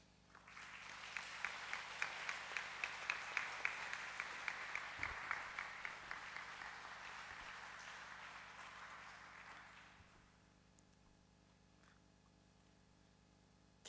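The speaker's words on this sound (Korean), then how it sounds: "선교사님 나오실 때 우리 박수로 우리 환영하겠습니다." Audience applause welcoming a missionary to the front of a church gathering, a broad steady wash of many hands with a few sharper claps on top, lasting about ten seconds before fading to quiet room tone.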